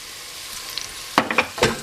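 A few quick spoon scrapes and stirs sound in a pot of okra soup with Maggi cubes, crayfish and salt after a quiet start, with a light bubbling simmer and no speech.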